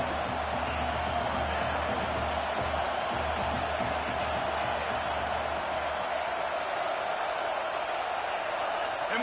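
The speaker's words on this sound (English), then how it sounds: "And with this place rocking, the crowd forces a false start." A stadium crowd in the College Football 26 video game keeps up a dense, constant roar throughout, loud and unbroken, with a faint low hum underneath.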